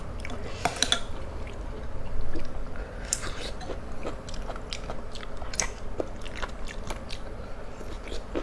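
Crunchy boiled hed phao (puffball) mushrooms chewed close to the mic, with moist crisp bites and squishy crunches repeating irregularly over a low background hum.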